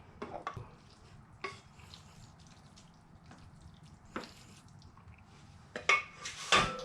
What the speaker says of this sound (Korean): 완성이 된 이 아이를 이제 그릇에 어, 담아 보도록 할게요